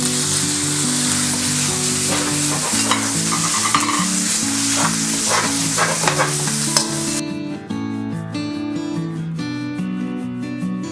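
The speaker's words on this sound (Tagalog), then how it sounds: "Ngayon po ay gigisa na natin tong ating ground chicken na may oyster sauce at saka ground black pepper" Ground chicken sautéing with oyster sauce and ground black pepper, a steady loud sizzle with scraping stir strokes over background music, no talk.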